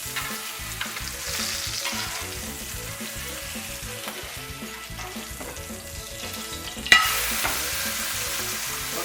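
Blackened catfish sizzles in a black iron skillet, a dense steady frying hiss that flares suddenly louder near the end as the fish is flipped.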